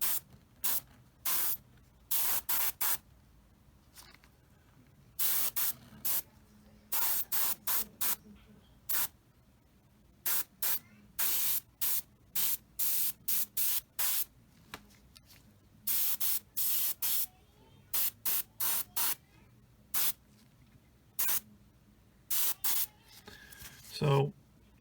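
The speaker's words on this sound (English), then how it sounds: "Now let's spray this here." An airbrush sprays Tamiya paint onto a 1/35 Tamiya Sd.Kfz. 250/3 Greif model kit in many short, sharp hissing bursts with quiet gaps between them, close to the microphone.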